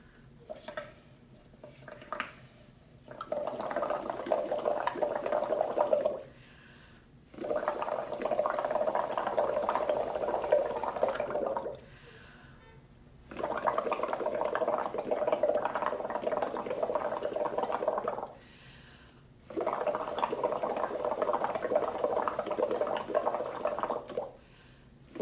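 Bubbling gurgle of someone blowing through two joined straws into a bowl of soapy water, coming in four long steady bursts separated by short pauses, fairly quiet and close.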